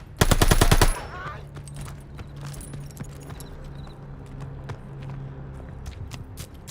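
Gunfire in Call of Duty: Vanguard opens with a loud rapid automatic burst lasting under a second, followed by scattered quieter single shots and clicks over a low background hum.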